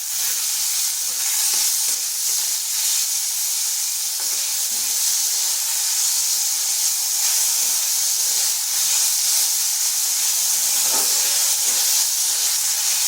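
Thin, long-sliced onion fries in a pan with a constant loud sizzle and hiss, steady and close throughout, with no voices.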